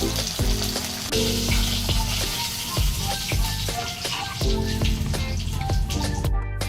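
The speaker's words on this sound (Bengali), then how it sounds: "এবার এটা তুলে দ্বিতীয় মাছটা আমি ভেজে নেব" Pomfret fish frying in hot oil, loud continuous spitting and bubbling with regular crackling bursts, close and unbroken, no talk.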